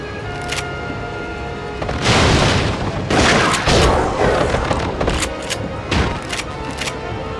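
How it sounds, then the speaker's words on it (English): Video game shotgun blasts fired in quick succession on PS3, several loud booming bursts with ringing tails over a constant low ambient drone. "Some poorly aimed shotgun shots."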